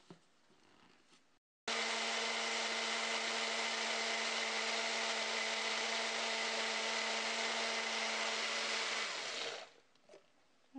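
A countertop blender runs steadily for about eight seconds, whirring loud and even as it purées dates with fermented cassava into a thick smoothie, then winds down to a stop; brief quiet room noise before and after.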